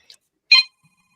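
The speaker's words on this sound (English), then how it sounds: "Somebody pick up that 1980s office phone." An old 1980s office telephone gives one short electronic ring burst, clear but brief and heard alone against near silence.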